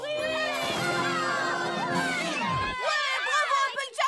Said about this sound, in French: Applaudissez Applejack!